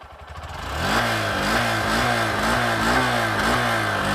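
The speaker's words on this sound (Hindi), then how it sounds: "होंडा का तो काफ़ी इंजन साइलेंट होता है।" A Honda motorcycle engine starts and settles into a steady, fairly quiet running note with a regular pulsing beat, close by and alone without talk.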